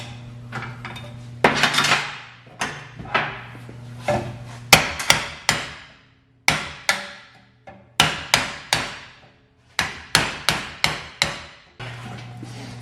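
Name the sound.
hammer smashing a car control arm bushing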